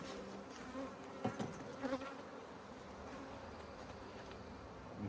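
Honey bees buzzing around an open hive box of brood frames with freshly emerging bees, a soft continuous drone with a few louder passes as individual bees fly close; no voices.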